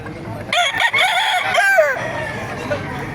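Roosters crow loudly and close at a poultry market in Baliuag, one drawn-out call rising over clucking fowl, with steady crowd and market background throughout.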